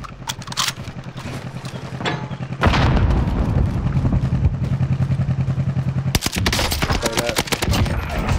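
Gunfire in the video game Call of Duty Modern Warfare 2019: a few sharp early shots, then a long, dense automatic burst of rapid, loud rounds, with more clattering fire at the end.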